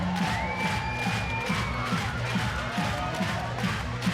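Football crowd in Newport at a Wales match cheers and chants along to a pounding stadium anthem, a steady roar of many voices over a thumping rhythmic beat.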